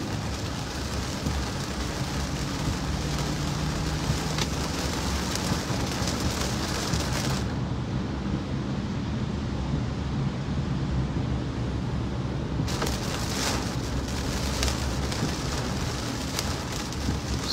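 Steady heavy rain falls outdoors in a constant dense hiss, with a brief dip in the upper hiss midway before it returns, close and continuous with no talking.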